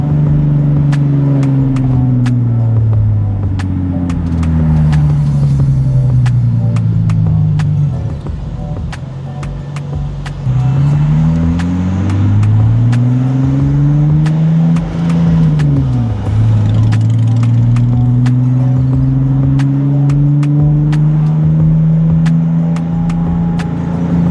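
Nissan 370Z engine droning steadily from inside the cabin while driving, with rising and falling pitch through repeated accelerations and gear shifts, loud and continuous throughout.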